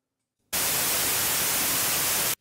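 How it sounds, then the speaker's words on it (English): White noise effect generated in the Reaper audio editor, a steady loud broadband hiss that starts abruptly after a half-second of silence, runs alone at constant level and cuts off sharply at the end. "you get more control over how much of the white noise you get in comparison to original audio"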